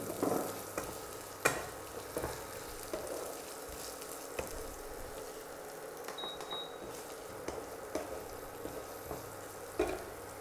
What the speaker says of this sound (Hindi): इसके बाद फिर आलू को डालना है इसमें।